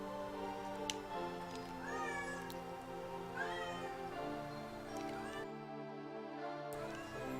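A pet cat gives several drawn-out meows, spaced a second or two apart, sounding close and clear over a steady bed of background game sound and music.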